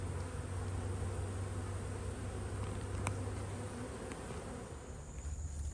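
Honeybees hum steadily in a bee yard on a North Carolina farm, a dense, continuous drone of many insects close by, with an occasional louder bee passing near.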